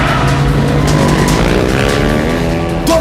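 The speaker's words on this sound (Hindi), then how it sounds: "दो बाइक से। सही बोल रहा है मिस कौर, 2 बाइक से।" Two motorbikes speed through an action-film chase, their engines a loud, continuous roar with a droning tonal whine that holds steady for the full three seconds.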